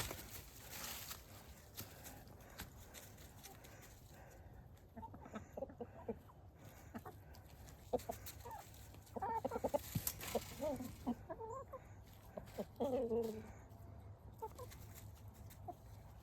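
Backyard chickens, hens and one rooster, cluck softly while pecking at beet greens and carrot tops, scattered low calls coming and going over a steady outdoor background, a bit busier toward the end.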